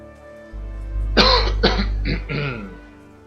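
A person coughs and clears their throat in a short burst of several rough hacks over about two seconds, close and fairly loud, with no speech.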